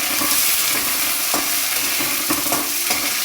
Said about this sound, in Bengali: এবার মাথাটা আমি একটু নেড়ে ফেলে নেব